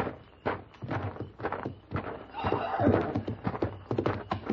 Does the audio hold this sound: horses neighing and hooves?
yes